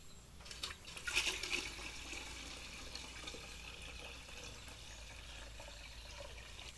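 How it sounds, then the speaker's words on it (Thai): Water is poured and mixed into cow manure fertilizer outdoors, a continuous splashing, rushing pour that swells briefly near the start and then runs steadily at moderate level without talk. "นี่ครับเทลงไป มาที่นี่ก็ผสมน้ำครับ"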